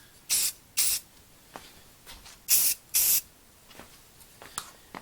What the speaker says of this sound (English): I'll do 2 coats of this, two just light coats.